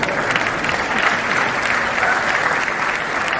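Audience applause during a health talk, dense and continuous clapping from a crowd that holds steady throughout with no speech over it.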